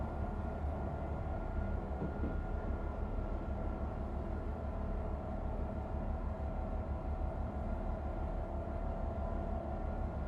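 Train driving along in the Train Life railway simulator game, a constant heavy low-pitched drone and rumble of the locomotive, steady and loud throughout without any voices.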